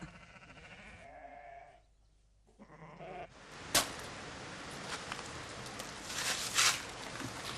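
Sheep bleating during a farm roundup, a wavering bleat early on and then a rising, busy jumble of flock noise and bleats toward the end, with no speech.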